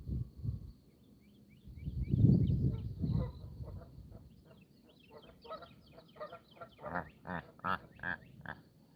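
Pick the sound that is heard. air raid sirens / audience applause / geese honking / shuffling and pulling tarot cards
geese honking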